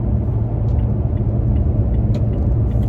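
A Toyota Tacoma pickup cruises in fourth gear at about 51 mph, giving a steady, close engine drone and road rumble without pause.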